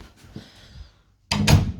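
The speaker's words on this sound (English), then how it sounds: "and close the door" An indoor door in a rented house is pushed shut with a single solid thud near the end, after a moment of faint handling noise and quiet.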